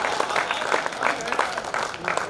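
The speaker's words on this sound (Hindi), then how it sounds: "पीछे तक के लोग बजाएं भैया ताली।" An audience at a Hindi poetry gathering (kavi sammelan) in Vidisha claps in dense, continuous applause with crowd murmur, moderately loud and sustained.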